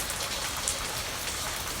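Hail falls outside during a storm, producing a dense, steady hiss of countless pattering impacts at an even, constant loudness throughout, with no voices over it.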